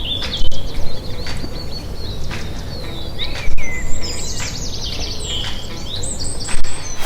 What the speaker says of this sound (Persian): وقتی داری تو پارک راه میری، صدای پرنده، صدای گربه، صدای همه چیزو شاید بلندتر از اون فایلی که در حال پخشه بشنوی